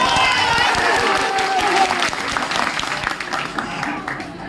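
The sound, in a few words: crowd clapping at rally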